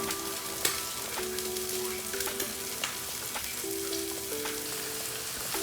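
Chopped medium-to-large onions fry in a pot as the base for a spicy boerewors sausage stew, a steady dense sizzle and crackle running throughout with occasional stirring clinks and scrapes, close and alone.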